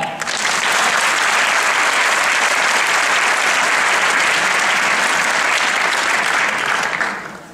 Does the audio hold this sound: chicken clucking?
no